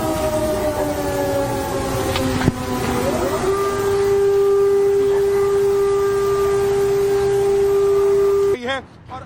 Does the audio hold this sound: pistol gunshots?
no